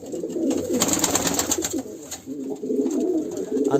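Pigeons in a loft coo nearby in soft, throaty rolling phrases, repeated over a few seconds with a steady low murmur, no one speaking.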